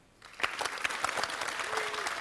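Applause from a conference audience voting for a team on an applause meter, swelling quickly into steady clapping for about two seconds.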